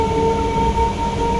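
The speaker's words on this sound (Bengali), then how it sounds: "এই দেখছো ট্রেনের মধ্যেই আছি," Inside a moving commuter train, a loud, steady rumble rolls on with a faint, constant tonal hum above it and no speech.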